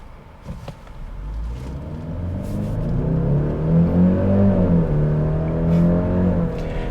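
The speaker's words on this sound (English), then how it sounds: "And the vehicle gets up to speed really quick." A 2022 Genesis GV70 2.5T SUV accelerates hard in sport mode, heard from inside as the engine note climbs steadily in pitch, dips briefly at a shift, then rises again in a loud continuous drone.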